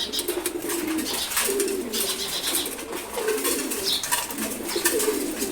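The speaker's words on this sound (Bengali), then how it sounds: "এখন কবুতরগুলোকে খাবার দিছি।" Pigeons cooing repeatedly while being fed in the morning, soft rolling coos from several birds close by, with light rustling and chirps in the background.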